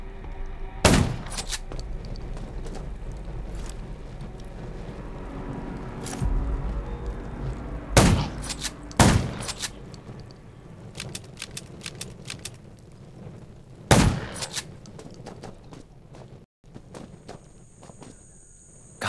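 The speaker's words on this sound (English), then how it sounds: "Gunshots will attract more zombies." Sharp gunshots in the zombie survival video game Garena Undawn fire singly at scattered intervals over an ambient game soundscape with footsteps and movement noise.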